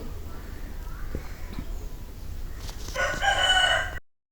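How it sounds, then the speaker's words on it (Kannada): Chicks next door to a house call nearby, their clucking rising into a louder, crowing burst near the end over a steady background hiss. "ನಮ್ಮನೆ ಪಕ್ಕ ಇರುವ ಕೋಳಿ ಮರಿಗಳ ವಾಯ್ಸೇ ಜಾಸ್ತಿ ಕೇಳ್ತಾ ಉಂಟು"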